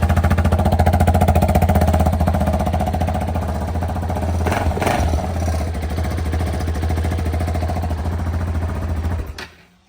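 A 2014 KTM 690 Duke motorcycle with just over 7,000 miles idles steadily and loud close by, its single-cylinder thump constant with a brief blip midway before cutting off at the end.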